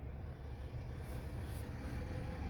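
A semi-truck engine idles at night in a Walmart parking lot, giving a steady low rumble that holds evenly throughout.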